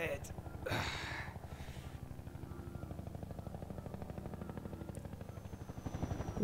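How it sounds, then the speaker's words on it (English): A helicopter in the Half-Life 2 mod Logistique thumps with a steady, rapid rotor chop that runs the whole time, while a person talks over it. "Ooh, helicopter."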